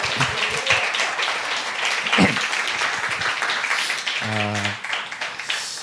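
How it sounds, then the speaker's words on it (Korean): Church congregation applauding in welcome during a Sunday service, a steady wash of clapping throughout with brief voices and a short tonal sound partway through. "다시 한번 따뜻하게 환영의 박수 하도록 하겠습니다."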